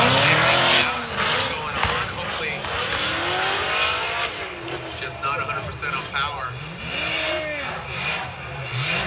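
Toyota GR Corolla drifting at Road Atlanta during a Formula Drift event, loud engine revving and squealing tires sweeping up and down in pitch, with voices shouting over the roar.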